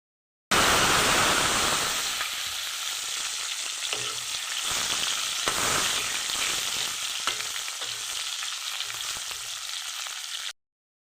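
Onions drop into hot oil and set off a loud, hissing sizzle that starts suddenly. The sizzle eases a little as frying goes on and continues steadily with no voices.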